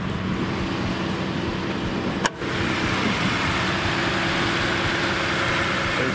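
Hybrid PowerBoost V6 of a 2021 Ford F-150 SuperCrew idling, a steady, even engine hum close by with one brief sharp click near the middle, no talking.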